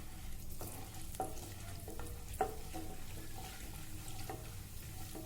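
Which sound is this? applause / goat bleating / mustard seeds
mustard seeds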